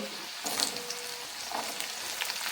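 Beans tipped into a frying pan with carrots, a gentle sizzle rising after a brief clatter as they land, then a few faint scrapes and light taps, fairly quiet and without speech.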